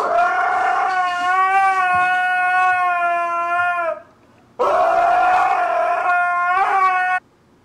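A dog howls in two long sustained, wavering calls, the first lasting about three seconds and the second slightly shorter, loud and close with a brief quiet gap between them.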